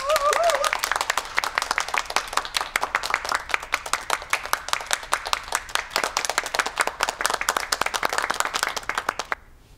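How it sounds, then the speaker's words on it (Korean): A group of people claps in a steady, fairly brisk rhythm of distinct, close hand claps. A short voice blip sounds at the start, and the clapping stops abruptly near the end. "자, 자, 박수!"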